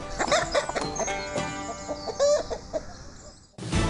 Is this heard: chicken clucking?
yes